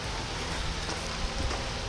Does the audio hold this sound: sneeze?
no